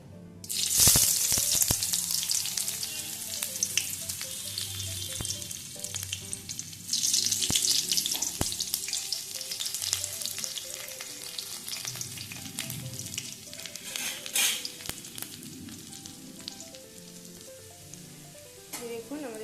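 Chopped onion sizzles and fries in oil with black cumin and dried red chilli, a steady close hiss with occasional louder spatters and scraping stirs, no talking.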